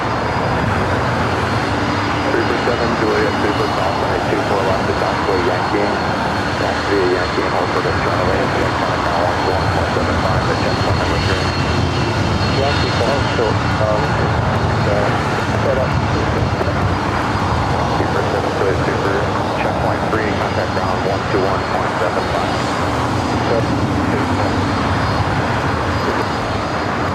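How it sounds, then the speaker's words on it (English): A Delta Boeing 767-300ER jet taking off at LAX roars loudly and continuously, a broad engine rumble and whine that holds steady throughout, with a voice talking over it. "Delta 767 at 300ER up next, heading to JFK."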